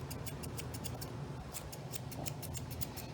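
Scissors snip through an English Springer Spaniel's coat during a summer haircut, a quick run of crisp close clicks in short clusters over a low steady background.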